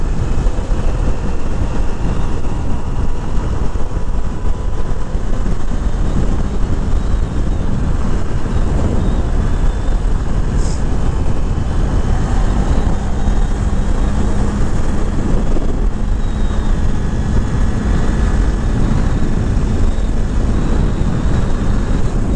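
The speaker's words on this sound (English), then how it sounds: "just a fun little bike to ride around on" A small-displacement motorcycle engine drones steadily while riding, heavily buffeted by wind roar, with no talking.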